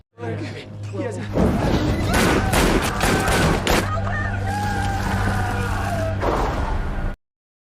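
A loud burst of rapid gunfire with crashing impacts over a dramatic film soundtrack, continuous for several seconds before cutting off abruptly.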